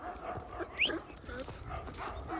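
A dog gives a single faint yip amid quiet outdoor background noise, with no sustained barking.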